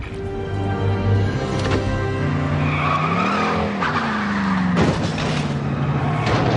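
A car starts up and pulls away with its tires skidding and squealing, the loud engine rising and falling in pitch throughout, with no voices over it.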